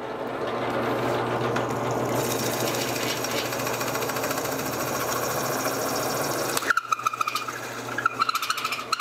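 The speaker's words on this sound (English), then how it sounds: "drill the rest of the way through from this side" A power drill bores through a clamped piece, a loud continuous whirring grind that runs for several seconds before cutting off into short rattling bursts as the bit breaks through.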